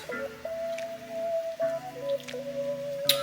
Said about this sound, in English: Now we're just going to mix it together.